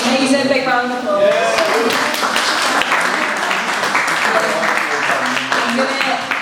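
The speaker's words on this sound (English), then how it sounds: "Big round of applause." Crowd clapping at a poetry and music evening, steady applause running throughout beneath a voice speaking and some tonal sounds early on.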